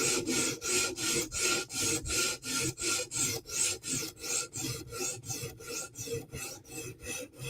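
Rhythmic rasping strokes of a Chris Reeve Umnumzaan tanto knife edge across a sharpening stone, about two to three steady passes per second, close and even, with no voices.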